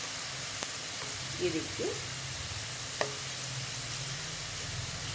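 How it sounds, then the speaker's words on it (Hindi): Chana dal frying in hot oil for a tangy namkeen, a steady low sizzle throughout with a couple of brief stirring scrapes and a short voice speaking over it. "हमारी दाल फ्राई हो गई है"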